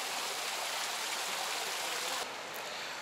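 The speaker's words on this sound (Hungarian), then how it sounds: "A Fontana de Barcaccia vízvezeték nyomása alacsony volt, ezért Bernini nem tudta megoldani, hogy a víz nagy sugarakban törjön elő" Steady broadband rush of water from Bernini's low-pressure Barcaccia fountain in Rome, shaped as a half-sunken boat; a continuous close splashing wash that softens slightly near the end.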